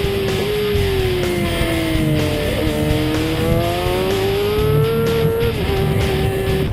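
A superstock racing motorcycle at Knockhill circuit screams at full throttle, its high engine note rising and dipping through gear changes, loud and continuous.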